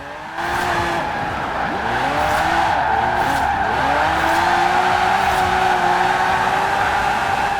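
A 2012 Bowler EXR S AWD with a 1500 hp drift build slides through a drift in Forza Horizon 4, its engine droning steadily while tires squeal continuously and loudly, with the pitch wavering through the slide.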